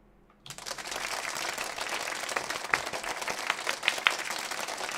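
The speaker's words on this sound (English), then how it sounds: "Jarvis, please clap" Canned applause from a soundboard kicks in abruptly after a brief quiet moment and then holds steady as a dense burst of many hands clapping, with a few sharper claps standing out, and no talking over it.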